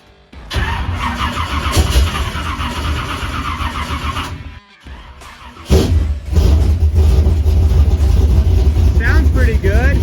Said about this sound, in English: Start it up and see if it runs.